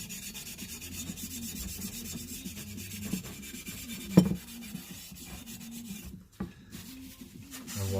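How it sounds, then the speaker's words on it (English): Wire wool and sandpaper rub steadily against a metal hand plane being restored, a close, continuous scratchy back-and-forth scrubbing with a faint knock partway through. "bit of wire wool, bit of sandpaper"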